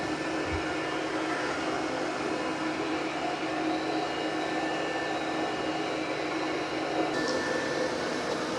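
An Ecovacs X11 Pro robot vacuum cleaner runs with a continuous, even whirring hum and airy suction noise, close and unchanging throughout.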